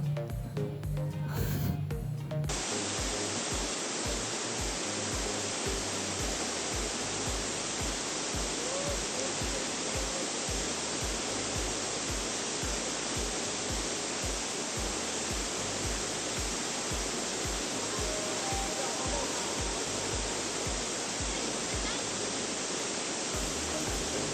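Magkahuyog Falls in Pamusaingan, Socorro, Surigao del Norte, gives a constant, loud, broadband roar of falling water. After a brief disturbance at the start, the roar continues unbroken with no voices.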